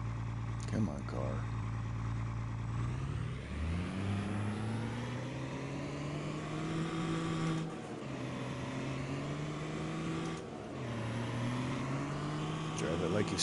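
A vehicle engine in Farming Simulator 22, on the Iowa Plains View map, revs continuously for over ten seconds, its droning pitch rising and dipping as gears shift and speed changes.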